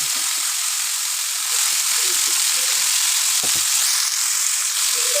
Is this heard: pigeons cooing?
no